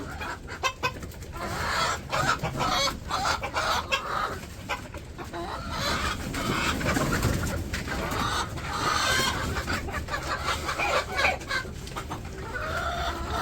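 Many chickens cluck and chatter steadily nearby while being fed, with occasional louder squawks and a distant rooster crow, continuous busy farmyard noise without talk.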